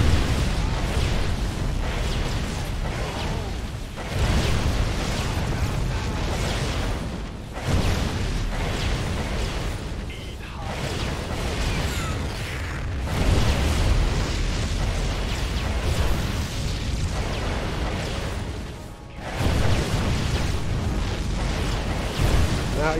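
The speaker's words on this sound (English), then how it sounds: "have the widow mines blow the bulk of the interceptors up" Widow mines detonating among a swarm of carrier interceptors in StarCraft II, a dense, continuous barrage of overlapping explosive bursts and booms with brief dips between volleys, loud and sustained throughout.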